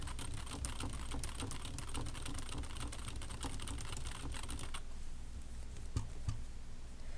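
Rapid typing patters on a computer keyboard, the keys clicking quickly and continuously, then thinning to a few scattered taps near the end; quiet and close, with no talking.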